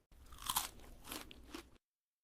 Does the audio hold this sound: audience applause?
no